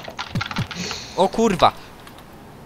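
Rapid clicks from a worn-out computer keyboard hammered during a 2-vs-2 Haxball match on the Classic stadium, a quick close burst of keystrokes followed by a brief spoken exclamation, then quiet room noise.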